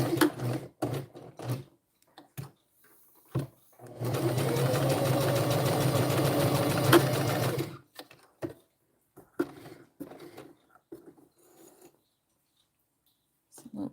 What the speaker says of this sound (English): sitting here at this sewing machine making